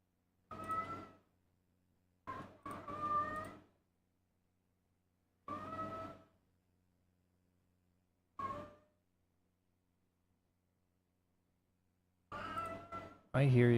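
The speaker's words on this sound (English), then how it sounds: "I hear you, kitty." A house cat meowing repeatedly in short, separate calls with quiet gaps between them, close and fairly clear against a silent room, with a louder cry at the very end.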